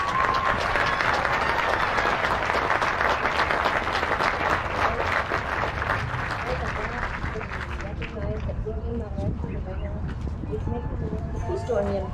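Audience applause fills a graduation ceremony for honor society members and academic achievers. The clapping is dense and sustained, then thins and fades after about eight seconds with crowd murmur underneath.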